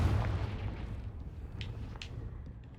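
The Confringo blasting spell in the Hogwarts Legacy video game sets off a single deep explosion at the start, followed by a rumbling tail that slowly fades, with a couple of faint light pops afterward.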